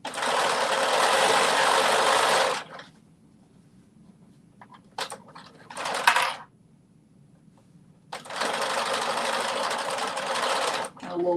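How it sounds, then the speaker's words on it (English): A sewing machine runs a back stitch: a steady, close mechanical whir for about two and a half seconds, a couple of short bursts after a pause, then another sustained run of several seconds. "A little back stitch"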